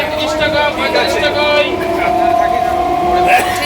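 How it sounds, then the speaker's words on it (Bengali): Inside a nearly empty moving passenger train, a steady rumble and rattle of the carriage with a sustained whine, heard close and loud beneath people talking. "এই যে আমরা ট্রেনে উঠলাম আর ট্রেনটা একেবারে ফাঁকা"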